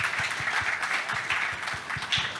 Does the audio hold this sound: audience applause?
yes